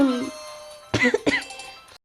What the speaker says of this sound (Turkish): Öksürüyorum birazcık.